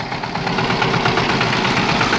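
A homemade mini pumpkin-seed harvester runs with a steady, close engine chug and rattle, a dense continuous mechanical clatter with rhythmic knocking throughout.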